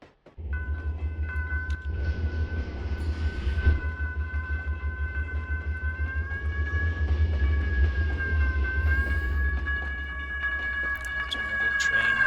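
An automobile train running in the Trainz railroad simulator, a steady low rumbling drone of wheels and cars with a sustained whining tone on top, continuous and fairly loud throughout.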